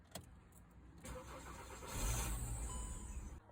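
A VW Golf with an electrical fault cranks and its engine catches, rising into a low idle rumble that runs briefly before fading; immobilizer mode cuts it out, heard from inside the car, fairly quiet.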